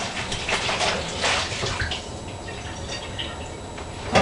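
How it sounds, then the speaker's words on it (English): Soy milk poured from a container into a cleaned 3-quart apple juice bottle, a close, continuous gurgling splash that tapers off over several seconds. "I pour my soy milk into there"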